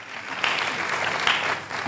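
A church congregation bursts into applause in a sustained burst of clapping that swells twice and fills the room, with no voices over it.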